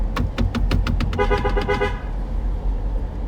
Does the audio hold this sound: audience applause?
no